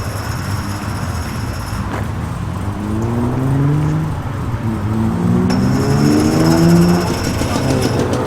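A 250 brake horsepower classic car engine idles loudly nearby, then rises and falls through several revs with a rough, throaty note, alone without talk.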